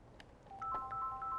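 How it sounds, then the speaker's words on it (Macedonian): Faint electronic telephone tones in a call-in TV studio, a short series of sustained beeps that sound like a phone ringing or dialing, with no one speaking. "Ева го, телефонот звони."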